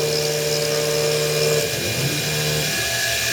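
A CNC machine mills titanium into a Superman pendant, throwing off chips, with a steady whining drone under shifting mid tones that runs alone and continuously throughout.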